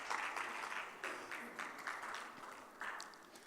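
An audience at a business conference panel claps for a moderator, a short burst of moderate, fairly close applause that thins out and fades.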